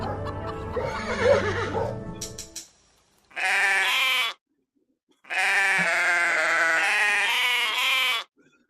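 A sheep-themed podcast jingle opens with a short burst of music, then breaks into a loud bleat followed by a second, longer drawn-out bleat, both close and clear against silence.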